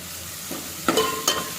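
Green chillies frying in a pan for a ridge gourd palya, a short, soft sizzle broken by two quick stirring scrapes near the end, close and without any talking.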